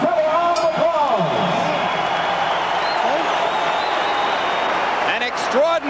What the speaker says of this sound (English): The entire arena on its feet, cheering, stomping, and applauding both fighters